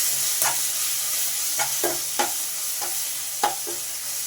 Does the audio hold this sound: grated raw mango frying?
yes